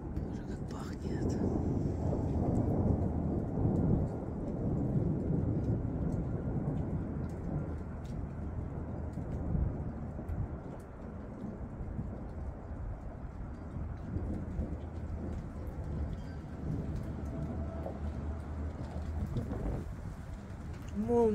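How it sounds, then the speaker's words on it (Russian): Steady rain pours close by with rumbling thunder through the first spring thunderstorm, with lightning, a broad wash of low noise that holds for the whole stretch; faint voices murmur beneath. "Первая гроза в этом году и первый дождь"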